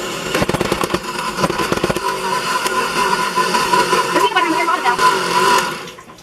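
A kitchen blender on its stir setting whirs and rattles while mixing peanut butter with hot chocolate mix, starting in choppy pulses before settling into a steady grinding drone that cuts off abruptly.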